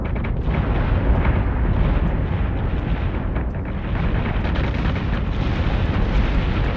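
Heavy ship guns fire in the space-combat game BSG: Deadlock, a dense, continuous barrage of booming blasts and rumble that stays loud and unbroken throughout, with no pauses between volleys.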